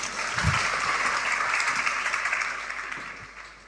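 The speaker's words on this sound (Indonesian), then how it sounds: "Kita beri tepuk tangan untuk kebenaran ini." Applause from a church congregation during a sermon, a broad steady wash of many hands clapping in a large room, moderately loud and continuous with a faint thump near the start.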